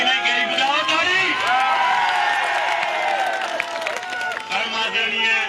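A rally crowd in a stadium claps and cheers in a sustained wash, while a loud voice carries over the noise throughout.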